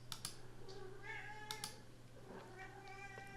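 A cat meows a few times in the background, faint and drawn out, over a low steady hum and some light clicking.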